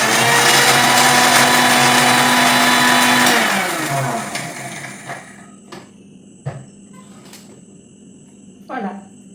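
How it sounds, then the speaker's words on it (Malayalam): A mixer grinder whirs loudly at high speed for several seconds grinding sugar into powder, then winds down and stops, leaving a few clicks and knocks. "ഷുഗർ നമ്മൾ ഒരു മിക്സിയുടെ ജാറിലേക്ക് ഇട്ട് കൊടുത്തിട്ട് നല്ലോണം പൗഡറാക്കി എടുക്കാം"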